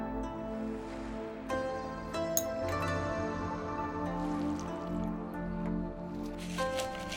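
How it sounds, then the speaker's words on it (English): Water poured into a bowl of beaten egg and flour for tempura batter gives a steady wet squishing, dripping sound, with a continuous tonal bed running underneath throughout. "Add the egg to the flour and then pour some of the water in."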